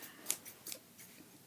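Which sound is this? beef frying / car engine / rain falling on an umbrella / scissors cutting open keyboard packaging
scissors cutting open keyboard packaging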